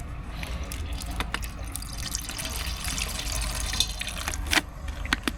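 Soy sauce trickles and drips into a marinade for tilefish char siu, a soft close liquid pour broken by scattered light taps and clinks.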